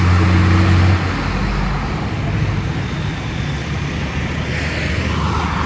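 Road traffic at the Zapotitán turnoff, with buses, pickups, microbuses and motorcycles passing. A deep, loud engine rumble opens the clip, then a dense, steady roar of vehicles continues close by.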